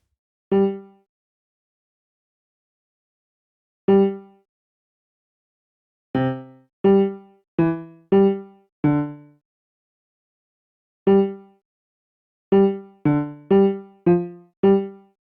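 A simple synthesized bass line made in SunVox plays alone, short plucked tones with clear harmonics arriving singly at first and then in quicker clusters, separated by silence.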